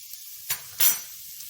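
Curry powder and cumin hit a pan for curried red lentils, giving two brief bursts of sizzle over a faint background hiss.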